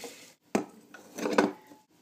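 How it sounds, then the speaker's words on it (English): Chopped celery with leaves, broccoli stalk, green capsicum and spinach dropped into a Thermochef bowl, giving a couple of dull thuds and a clattering rustle of pieces landing, close and brief. "Now we're just going to pop our vegetables in."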